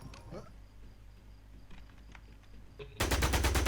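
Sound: gunfire from police shooting in a video game

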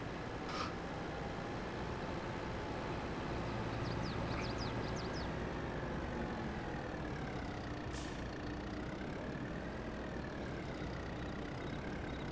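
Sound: tractor engine running, video game Farming Simulator

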